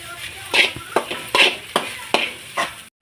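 Egg fried rice with garam masala being stirred in a pan: a steady run of scraping spatula strokes about every half second over a soft sizzle, close and alone with no talk.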